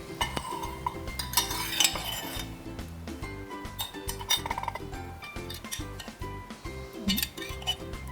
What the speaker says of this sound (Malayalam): നമുക്ക് മിക്സ് ചെയ്ത് നോക്കാം.